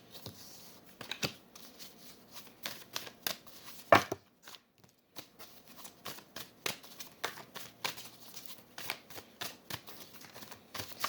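Tarot cards are shuffled by hand during a reading in an otherwise quiet room, a long run of soft, quick, irregular riffling clicks and flutters, with one sharper snap partway through and no talking.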